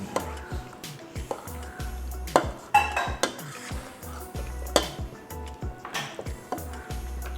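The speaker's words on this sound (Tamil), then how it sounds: "நல்லா கலந்து விட்டுடலாம்." A ladle mixes urundai kuzhambu in a metal pot, giving repeated close scraping strokes and sharp clinks against the pot in an uneven rhythm.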